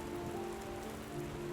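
Rain falls steadily in a cartoon scene, a soft, even patter of drops on a surface continuing without a break and with no voices.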